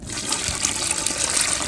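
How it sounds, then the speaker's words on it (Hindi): Water is poured into multani mitti clay, a steady splashing gush of liquid filling a container, continuous and close for under two seconds. "तो ये देखिए हमने पानी डाल दिया अंदर"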